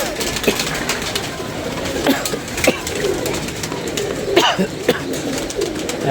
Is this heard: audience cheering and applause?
no